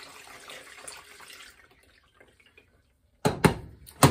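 Homemade citrus juice of grapefruit, orange and lemon poured through a cheesecloth strainer, a soft trickling stream that fades to near silence before splashy bursts of liquid pour in close by, with no talking.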